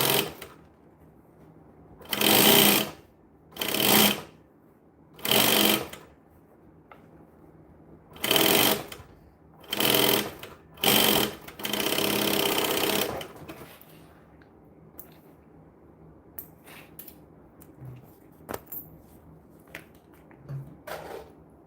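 A sewing machine stitching bags runs in about seven loud, close bursts of rapid whirring, each a second or so long, with short quiet gaps between them. It is followed by faint handling clicks, and no one speaks.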